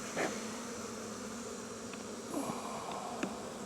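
A soft, continuous buzzing of many honey bees, with a few individual bees droning louder as they pass close by.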